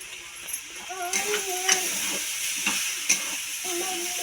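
Homemade onion chutney with chilli is stirred in a pan, with a soft sizzling hiss and occasional sharp spoon scrapes and clinks, close and moderate, while a voice speaks intermittently.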